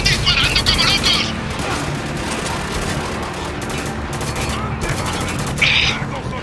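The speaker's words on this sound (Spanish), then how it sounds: "¡Están disparando como locos!" Rapid machine gun bursts and overlapping gunfire crackle through a firefight in the shooter game Spec Ops: The Line, loud and continuous, with shouted voices mixed into the chaos.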